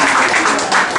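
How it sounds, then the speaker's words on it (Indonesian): An audience claps together in a short, dense burst of applause that sounds loud and full, with a faint voice mixed in. "tepuk tangan sekali lagi buat"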